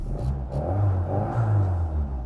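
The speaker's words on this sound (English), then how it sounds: "Ooh, I heard turbo." A classic Mini Cooper's fuel-injected turbocharged engine revs up twice, a low throaty rumble swelling and easing back, close by with no voices.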